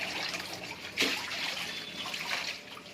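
Dirty water is rinsed from laundry in a basin before fabric softener goes in. Quiet splashing and trickling run throughout, with a brief louder slosh partway through.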